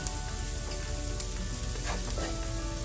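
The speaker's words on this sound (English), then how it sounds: "We're going to saute that down nicely." Chopped onions sauté in a pan on the way to deep golden brown, sizzling steadily with occasional stirring scrapes and light clinks, with no talk over them.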